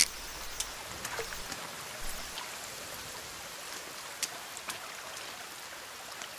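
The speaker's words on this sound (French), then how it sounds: "Bon, la pluie c'est bien, mais c'est encore mieux quand ça s'arrête." Quiet, continuous rain in the survival game The Forest, a faint even wash of patter with occasional sharper drops, heard alone.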